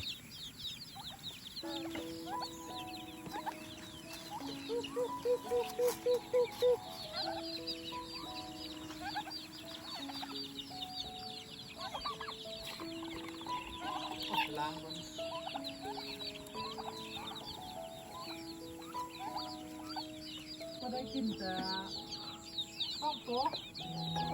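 Turkeys and chickens at a rural Thai home in Isan, with repeated clucking and gobbling calls scattered through the clip among other birds, with people talking nearby.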